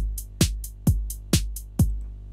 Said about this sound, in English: Kick, clap, snare, all going to the same channel by themselves.